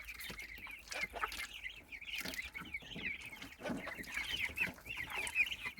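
Chicks cluck and peep continuously at close range, a busy overlapping chatter of small birds with no talking.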